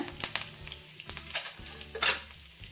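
Cumin seeds and curry leaves fry in a pan with soft sizzling and spluttering, punctuated by a few scraping stirs and light clinks of a utensil against the pan.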